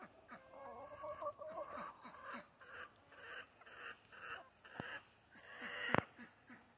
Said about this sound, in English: That's rooster behavior.